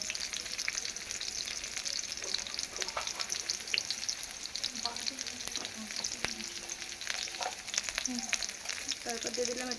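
Garlic and dried red chili frying in hot oil for a Bengali dish, a steady close sizzle with light stirring scrapes running throughout.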